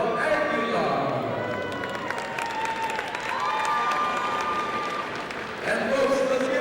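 Audience applause and crowd noise fill the hall after three rounds of Muay Thai at an international fight showdown, a steady loud roar with an announcer talking over it throughout.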